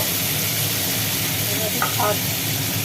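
Mustard hilsa fries in a pan with the lid lifted, giving a continuous loud sizzle and hiss while it is stirred, with a couple of faint scraping touches in the middle.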